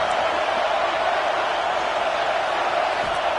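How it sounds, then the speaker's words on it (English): A stadium crowd in a college football video game roars steadily on third down, a dense, continuous wall of cheering that holds at an even level throughout with no clear voices standing out. "The Buckeye crowd alive on 3rd down."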